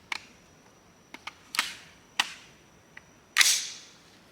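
Anderson AM15 rifle fed from a 40-round magazine fires several spaced, sharp cracks at uneven intervals, with one louder final shot; heard at a distance or damped, with no talking.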